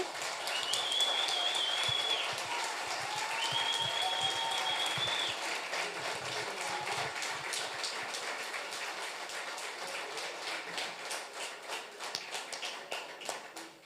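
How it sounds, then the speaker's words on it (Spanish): Sustained audience applause for a mayoral candidate at an evening campaign event, a dense wash of clapping lasting the whole stretch, with some faint whistles or cheers over it early on and the clapping thinning slightly toward the end. "candidato a la alcaldía, Rubito González, así que les pido un aplauso enorme."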